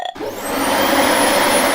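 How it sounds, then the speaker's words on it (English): A vacuum cleaner whirs up after a brief click and then holds a loud, steady drone close by, with no talking over it. "That's the vacuum cleaner, says Chloe."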